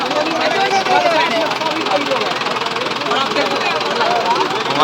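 A 475 DI tractor engine drones steadily nearby, loud and rumbling with a knocking pulse, while a person talks over it.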